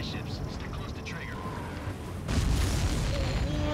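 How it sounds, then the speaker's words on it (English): A supply ship blows up in a video game with a sudden deep boom partway through that swells into a sustained roar, following quieter game sounds, while a voice talks over it. "See that explosion? Looks like that's one of them down."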